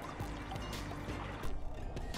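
Water runs and trickles steadily through the fountains and channels of the Alhambra, a continuous soft pouring wash with no talk over it.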